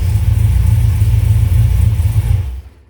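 A car engine idles steadily after a fresh set of spark plugs and plug wires, a loud, even low rumble close by that holds for over two seconds, then cuts out abruptly.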